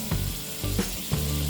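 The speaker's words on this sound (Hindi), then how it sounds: "पैन गरम हो गया, अब हम इसमें डालेंगे ये 1 टीस्पून बटर" Butter sizzles in a hot pan, about a teaspoon of it, cooking for soy keema pav: a steady close frying hiss with three brief louder flares as it spreads and bubbles.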